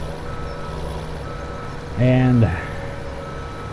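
Dump truck reversing alarm in Farming Simulator 2017, a single loud, clear beep burst lasting about half a second over steady engine hum, with a brief spoken word nearby.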